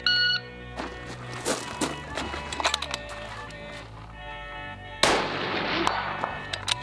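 Rapid bursts of gunshots during a timed shooting course of fire at a range, with sharp cracks clustered early and a loud shot near the end, mixed with faint background noise and beeps.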